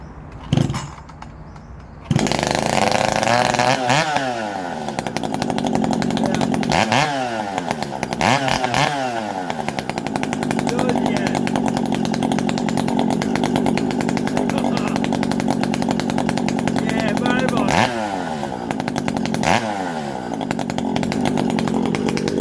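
A ported Shindaiwa 731sx chainsaw with a pipe muffler starts, then runs loud and close for a long stretch, with repeated revving up and dropping back to idle.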